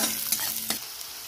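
Green chillies, crushed garlic and onion frying in hot oil, a brief loud hiss with a couple of sharp crackles, close and alone with no voices.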